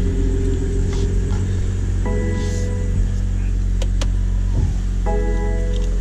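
BMW M340i G20 xDrive shifted into drive and pulling away from a stop, a steady low engine rumble with short electronic tones and whines layered on top, heard up close from inside the car.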